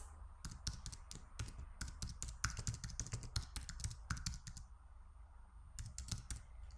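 An email address is typed on a computer keyboard during setup of a Calendly booking account: fast, close, light key clicks in steady bursts that pause briefly near the end, with no voice.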